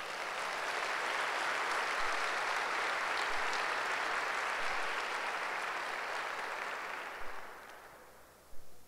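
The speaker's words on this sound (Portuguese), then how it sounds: "Vamos dar um aplauso ao Senhor." A church congregation applauds during a Sunday worship service, a dense, steady wash of many hands clapping that holds loud and even before thinning out near the end.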